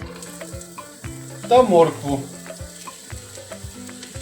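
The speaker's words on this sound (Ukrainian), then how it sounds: "Викладаємо цибулю" Onion and carrot sizzle and crackle steadily in a hot oiled pan, with a brief louder burst as more goes in, while a person speaks briefly over it.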